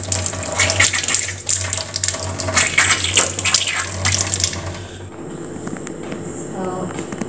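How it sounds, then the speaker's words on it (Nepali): Water gushes from a household tap as the supply starts flowing again, a loud, steady rushing stream close by that eases and thins toward the end. "अहिले भर्खरै पानी आएको भर्खर पानी आउन लागेको छ"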